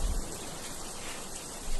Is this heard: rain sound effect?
yes